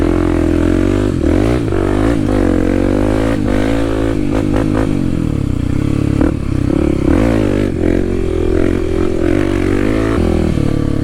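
A Kawasaki KLX300 dirt bike ridden along a muddy trail, its engine droning loud and close the whole time, rising and falling with the throttle, along with some rattling and scraping.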